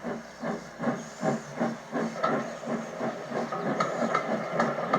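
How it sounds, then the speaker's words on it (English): Steam locomotive on the Thomas the Tank Engine railway puffing away from a station with passengers, a steady rhythmic chuff of regular exhaust beats over a continuous hiss of steam, moderately close and unaccompanied by speech. "James collected his passengers and respectfully puffed away."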